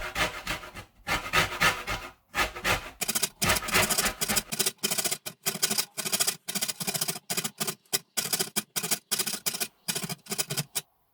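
A lemon is zested on a sharp zester in rapid rhythmic strokes, each a short raspy scrape, dozens of them in quick succession with brief gaps, close and fairly loud.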